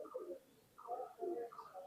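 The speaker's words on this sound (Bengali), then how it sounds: "এটা হলো প্রিন্স কামাগারের একটা মাদি কবুতর" A female Prince Kamagar pigeon coos softly in three or four low, rounded phrases, close by and quiet, with no talk over it.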